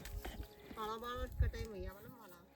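A buffalo walking along a village path, hooves clip-clopping in a steady rhythm close by, with a person talking over much of it.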